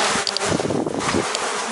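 Honey bees swarm around village hives, a loud, close, dense buzzing that swells and wavers continuously as individual bees pass near.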